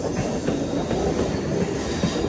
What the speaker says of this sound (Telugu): మన ట్రైన్ ఆ ట్రైన్ అయితే ప్యారలల్గా ముందుకు పోతున్నాయి